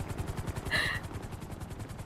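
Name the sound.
helicopter in video game GTA 5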